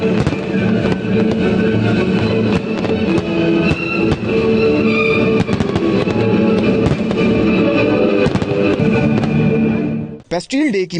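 Dense, continuous Bastille Day fireworks at midnight in French cities crackle and boom loudly for several seconds, a steady barrage of bursts that cuts off abruptly near the end.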